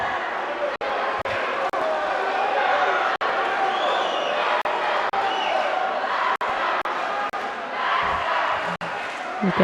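A loud arena crowd roars and cheers continuously through a youth judo bout at the European Youth Olympic Festival in Tbilisi, with brief sharp thuds cutting through the steady wash of voices.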